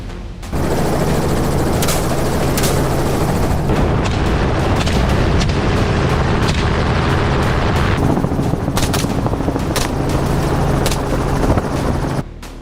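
A helicopter flies loud and steady overhead while rifle shots are fired from the moving aircraft, sharp cracks punching through the constant rotor and engine roar.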